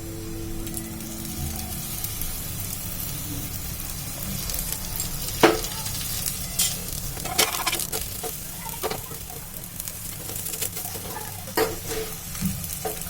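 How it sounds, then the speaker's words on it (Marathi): Methi paratha roasting in ghee on a pan over low heat, a steady soft sizzle throughout with occasional sharper crackles and light scraping as it cooks. "हा मंद आचेवरती आपण चांगला भाजून घेऊया."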